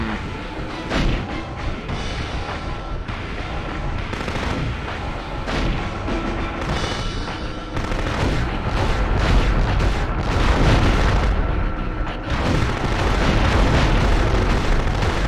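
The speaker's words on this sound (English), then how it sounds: "So I can fire two weapons at once" Heavy weapons fire from the PS1 game Future Cop LAPD: dense, continuous booming blasts and explosions, loud and close, with several weapons firing at once and no talking.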